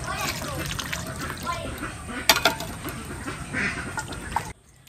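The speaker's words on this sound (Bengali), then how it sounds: "আজকে আমাদের হাঁসগুলো একদম জল পেয়ে প্রচন্ড খুশি" Domestic ducks enjoying a rain-filled village pond quack and honk amid splashing water, close and lively, with people talking over the birds before the sound cuts off near the end.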